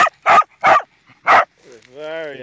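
An excited dog barks three times in quick, loud bursts outdoors at sunset, then breaks into a drawn-out whine or whimper, alone with no talk over it.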